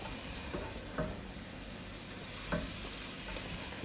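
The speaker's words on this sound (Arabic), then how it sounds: "الحين نحمس الثوم مع الماشروم" Garlic and mushrooms sautéing in a pan for a soup, giving a steady close sizzle with a few soft stirring scrapes and no voices.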